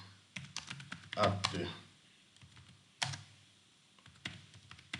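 Someone types on a computer keyboard in quick bursts of close, light clicking, pausing between runs of keystrokes, while a voice briefly speaks.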